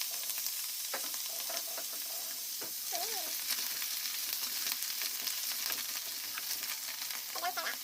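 Mushrooms and tuna frying in a pan give a steady soft sizzle with scattered crackles and pops, plus brief scraping stirs near the start and end.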